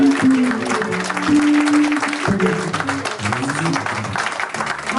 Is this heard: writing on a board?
no